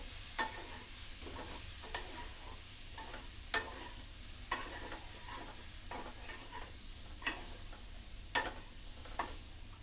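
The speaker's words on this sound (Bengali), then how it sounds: "একটু একটু জল দিয়ে কষিয়ে নিচ্ছি" Soybean and potato curry sautés in spices with a splash of water, a soft steady sizzle broken by repeated scraping strokes of a spoon at an uneven rhythm, close and without voices.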